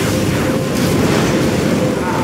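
A particle cannon blast in the Command & Conquer video game roars as a dense, sustained rumbling wash of explosive noise, loud and unbroken throughout.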